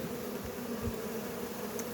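Honey bees at a hive during a robbing attack, a steady dense buzz of many insects holding at an even level throughout, with no voices.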